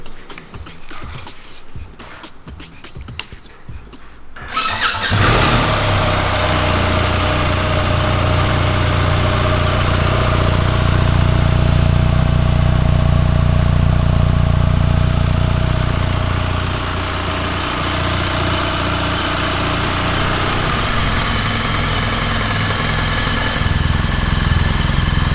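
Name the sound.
BMW R1300 GS motorcycle engine sound test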